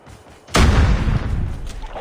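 A grenade explodes in a multiplayer shooter video game, a sudden loud boom that rumbles and decays over about a second and a half, alone without talk.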